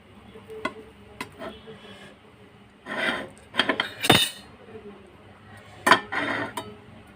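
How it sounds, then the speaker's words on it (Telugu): Flatbread is cut into small pieces on a plate, with intermittent scraping and rasping knife strokes and light clinks of metal on dishware in short bursts, close and moderately loud. "దీన్ని చిన్న చిన్న పీసెస్గా మనకు అవసరమైనంత పీసెస్గా కట్ చేసుకుందాం"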